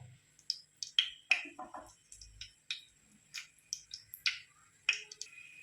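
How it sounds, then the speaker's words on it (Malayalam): Fenugreek seeds crackling and popping in hot oil in a curry pot for fish curry, a scattered series of sharp, close snaps and ticks spaced irregularly, fairly quiet overall. "ഉലുവ പൊട്ടി തുടങ്ങിയിട്ടുണ്ട്"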